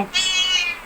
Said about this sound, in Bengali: ম্যাও করছেন?